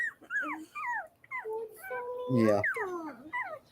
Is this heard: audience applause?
no